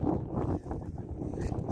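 Steady gusty wind of a blizzard on a highland plateau roars against the microphone, a broad rumbling rush with no pause, loud and close throughout.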